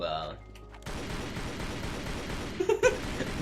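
Rapid gunfire in a Lara Croft video game, a dense, sustained stream of shots that starts abruptly after a brief quieter moment and carries on steadily with a few louder bumps.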